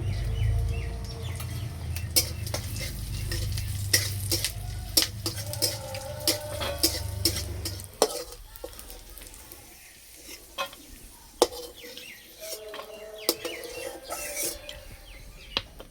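Cashews, raisins and melon seeds fry in ghee in a wok with a soft sizzle, while a utensil scrapes and clacks against the metal in sharp, irregular strokes, close up; the low background rumble drops away midway and no one speaks.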